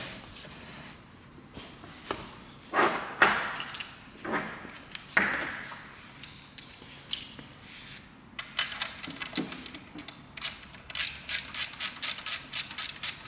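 Ratchet tightening the nuts on a transmission pan of a Dodge 8HP70/90 eight-speed automatic: scattered clicks and clinks early, then a quick, steady run of sharp ratcheting ticks that grows denser toward the end, close and fairly quiet.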